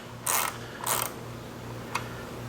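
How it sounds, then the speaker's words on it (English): A hand ratchet clicks in two short buzzing bursts and then a single click as it turns a bolt during adjustment of the kickdown band on a 32RH automatic transmission, close and clear over a low hum. "The ratchet is nice because I can see everything."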